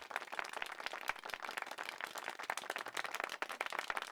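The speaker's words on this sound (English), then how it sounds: "The crowd sends them off with a flood of applause" Audience applause fills a hall as two singers leave the stage, a dense, steady wash of many hands clapping close and loud throughout, with no voices.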